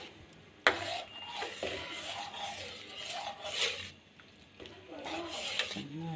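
Semolina for upma is stirred in a pan, with soft scraping and rubbing of a spoon against the metal in uneven strokes close by. A voice can be heard at moments.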